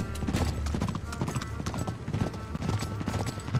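Horse hooves clip-clopping steadily while riding in Uncharted 3: Drake's Deception (Remastered), continuous rhythmic clatter mixed with game ambience and other sounds.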